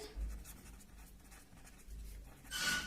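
Pen or marker writing out a chemistry question during a class-10 lecture on oxidation and reduction, faint scratchy strokes in a quiet room with a brighter burst of writing near the end.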